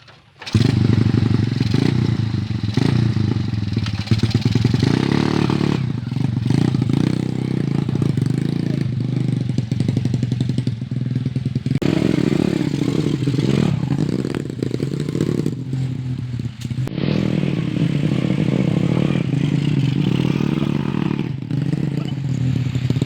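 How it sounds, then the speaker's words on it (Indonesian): A motorcycle engine runs and revs loudly up close for a sustained stretch, with rattles and scrapes from a motorbike taxi rider riding in the rain. "ini motornya heset ya"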